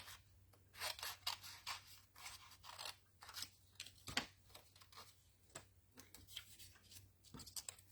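Scissors snip repeatedly through paper card pieces during card making, giving an irregular run of crisp close cuts and rustles with short pauses, with no talking.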